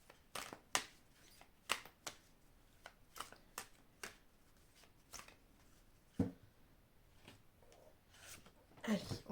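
A deck of cards handled close up, a series of sharp, scattered snaps and flicks with a quiet gap between them, ending in a brief flurry of rustling.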